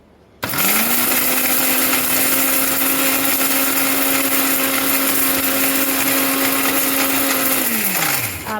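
A mixer grinder running on garam masala, starting abruptly after a short quiet moment into a loud steady motor whine with gritty rattling, holding at one pitch, then winding down at the end.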